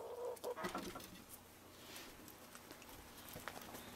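Chickens are let out of their coop in a garden, with clucking and soft bird calls at a moderate distance, busier at first and then settling into quieter scattered noises.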